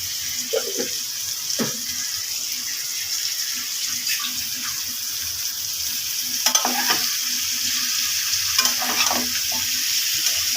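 Chepa shutki, fermented dried fish, cooking with taro stolons in a pan, with a steady frying hiss and occasional scrapes and knocks of a spoon stirring the curry up close.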